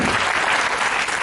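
A crowd of listeners at a motivational lecture for homoeopaths applauds a young man, a brief, loud burst of dense clapping lasting just over a second.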